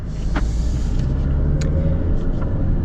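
A 2024 Alfa Romeo Giulia Sprint accelerates with a steady, loud engine drone heard from inside the cabin, alone and continuous throughout.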